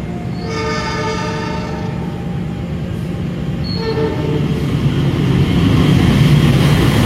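Economy train pulling out of Cikampek station, its horn sounding a long sustained blast before fading, followed by rising rumble of wheels and carriages gathering speed, loud and close.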